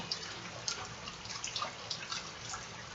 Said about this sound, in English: it is pouring off from that field with so much water and going down the street